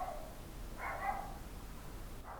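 A dog barks faintly in the distance, a few short barks separated by pauses, heard over a steady low background hum.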